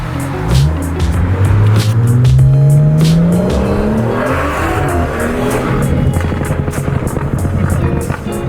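BMW F30 340i with a Bootmod3 Stage 2 tune and aggressive burble accelerating hard, a loud continuous engine note climbing steadily in pitch, with tire noise and crackling texture throughout and no talking.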